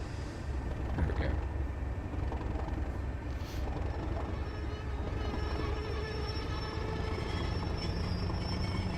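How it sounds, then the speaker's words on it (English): A diesel train running in a train simulator game: a continuous low engine drone and rail rumble, steady and fairly loud for the whole stretch, with faint mechanical rattles on top. "Moving again now."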